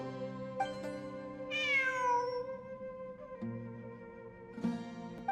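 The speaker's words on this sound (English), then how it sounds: "It really is a cat." A cat meows in the video game Genshin Impact, with a rising-and-falling mew and a couple of shorter calls over a soft, sustained musical background.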